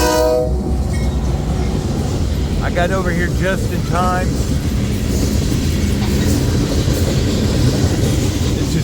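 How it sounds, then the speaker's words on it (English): An eastbound freight coal train with a Southern Pacific locomotive rumbles past close by in Missouri Valley, Iowa, with a steady heavy roar, a short horn sounding briefly near the start while someone speaks over it. "Eastbound coal drag with a Southern Pacific engine on it."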